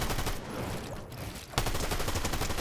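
Gunfire in a Fortnite tournament match, rapid dense bursts of shots before and after a short lull, loud and close.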